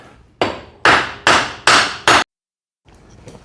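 A hammer strikes five loud, close, evenly spaced blows to seat a universal joint on a Toyota drive shaft. Each tap rings briefly, and a short silence follows.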